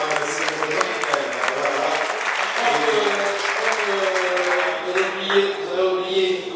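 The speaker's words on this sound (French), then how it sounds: "on va applaudissements pour Georges Donnet" Sustained applause from an audience greeting a player introduced during a professional basketball club's team presentation, with steady clapping over a crowd murmur and announcer-style talk mixed in.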